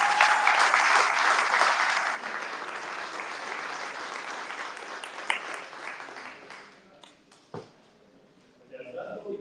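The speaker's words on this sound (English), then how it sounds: "Let's give another round of applause." Audience applause at a talk on responsible AI and ethics: dense clapping for about two seconds, then a thinner, steady patter that fades out, with a brief voice or sharp noise near the end.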